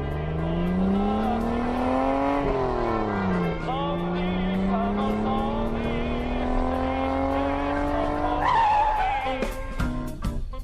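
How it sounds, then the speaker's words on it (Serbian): A car pulls away hard as the driver floors the gas, a steadily rising engine whine with a gear change, loud and close, mixed with music in a radio drama. "sednem u kola, odvrnem si muziku da se još malo napumpam, nagazim na gas"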